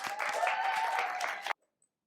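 Audience clapping for a poet at a poetry slam in a public library, a moderate burst of many hands that stops abruptly after about a second and a half, leaving near silence.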